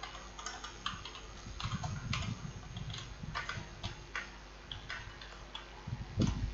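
Quiet, steady clicking of keys on a computer keyboard while code is written, fast, uneven keystrokes over a low background hum with no talking.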